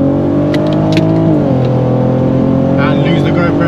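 A Mk1 Audi TT V6 3.2 with DSG gearbox drops a gear in sport mode and pulls hard, a loud close engine note that steps in pitch at the downshift then climbs under acceleration, with a brief voice over it.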